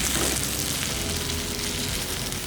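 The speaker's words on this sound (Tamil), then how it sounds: "நம்ம போட்ட தேங்காயும் நல்லா வெங்காயத்து கூட சேர்த்து நல்லா வதக்கி விட்டுருங்க" Onion and grated coconut sautéing in oil for a country chicken curry, giving a steady broadband sizzle that stays fairly even across the short stretch, with no voices over it.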